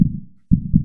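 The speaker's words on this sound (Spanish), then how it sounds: "Y casi al mismo tiempo sentí el corazón fallarme un latido." A heartbeat sound effect in a Spanish-language radio drama: two deep, muffled thumps, the second a quick double beat, loud and close with nothing else around them.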